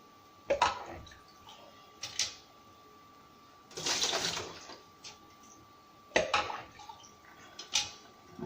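Water is poured out in a short splashing burst, surrounded by a few sharp clinks and knocks of a container being handled nearby.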